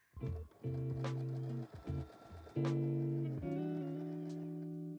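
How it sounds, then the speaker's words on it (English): Sewing machine stitching along fabric while finishing a thrifted garment, in two sustained whirring runs with a short pause and clicks between, close and steady. "I'm just gonna sew along here"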